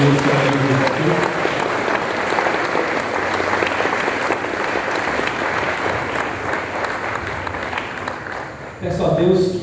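A church congregation applauds loudly and continuously for several seconds, the clapping fading near the end as other sounds return.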